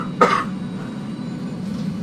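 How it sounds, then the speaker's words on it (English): A single short cough from a player in the middle of a modded Satisfactory session, sharp and close, sitting over a steady low background hum that continues alone afterward. "Sorry for the cough there."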